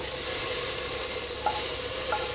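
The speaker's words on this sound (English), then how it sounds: "Now this is boiling." A pot of Kerala-style erissery with pumpkin bubbles and hisses steadily on the stove, a close, continuous sizzling wash with a couple of faint clinks.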